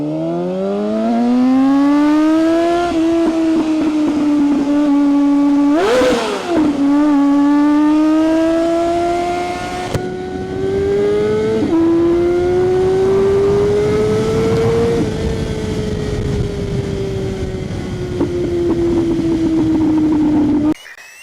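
A 2003 Honda CBR600RR inline-four howls loud and close while riding, revs climbing and falling through gear changes, with a sharp blip mid-run and a long sustained high drone.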